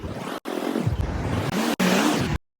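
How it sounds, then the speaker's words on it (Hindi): A motorbike starts up and pulls away onto a road, its engine note rising and holding loud and close through most of the clip, with two brief dropouts and a cutoff near the end. "मैंने चाबी उठा गया सीधी बाइक स्टार्ट करी। बाइक स्टार्ट करने के बाद भाई साहब फिर मैं निकल गया रोड पे।"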